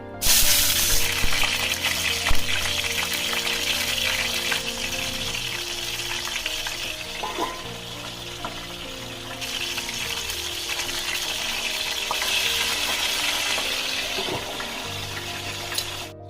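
Steady loud sizzle of whole small eggplants frying in a little oil, a continuous crackling hiss with occasional stirring scrapes.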